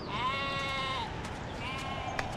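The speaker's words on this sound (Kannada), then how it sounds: "ಪಾರು ಕುರಿ ಮೇಸಕ್ ಬಂದತ್ತೆ." A sheep bleats close by in two drawn-out wavering calls, the first longer and louder, the second briefer, over a quiet rustling outdoor background.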